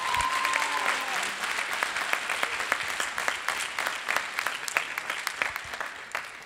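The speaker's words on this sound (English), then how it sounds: "Can we give a big round of applause to Zen?" Audience applause at a spring jazz ensembles concert for a bass player, dense and steady throughout with sharp individual claps scattered across it, fairly close and sustained for several seconds.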